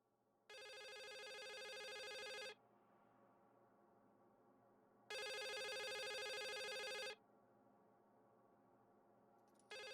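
Telephone ringing in the video game The Suicide of Rachel Foster: two long, loud electronic ring bursts about two seconds each, separated by a pause, with a third just starting at the end, over quiet room tone.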